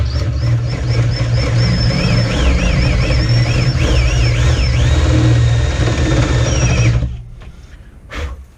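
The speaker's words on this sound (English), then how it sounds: "So then I'm going to use a step bit here and see if that does the trick." Step drill bit boring through a metal plate inside a 1996 Jeep Cherokee XJ during a console upgrade: a loud, close, whining drill motor with shifting pitch for about seven seconds, then stopping, followed by faint handling noises.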